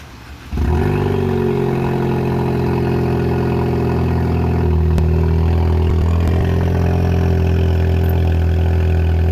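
A Ford Focus ST engine with a custom exhaust and electric cutout cranks and catches, then settles into a loud, steady cold idle with a low rumble and light mechanical clatter.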